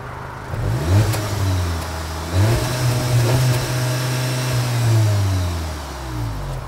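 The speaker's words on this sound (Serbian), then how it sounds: "Upaljen je auto, ako niste čuli." A Stage 1 tuned 350 hp car engine idles steadily, then revs up in several swelling bursts that rise and fall back, close and fairly loud with no talking.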